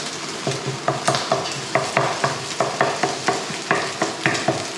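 Eggs sizzle in a hot pan while a spatula breaks them up in a steady rhythm of about a dozen sharp scraping taps over a continuous frying hiss, close by and without speech.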